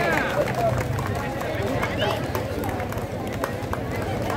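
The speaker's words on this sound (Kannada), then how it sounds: "ಜೋರಾಗಿ ಚಪ್ಪಾಳೆ" A gathered crowd claps loudly and steadily at a Karnataka Rajyotsava celebration, the dense patter holding evenly from start to finish with background chatter beneath.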